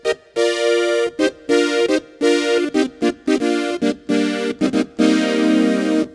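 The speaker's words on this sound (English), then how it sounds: "like kind of Oberheim type sounds like this" A Hammond SK Pro plays an Oberheim-style polyphonic synth patch in short punchy staccato chords with bright brassy tone, rhythmic stabs separated by gaps, ending on a longer held chord, close and alone.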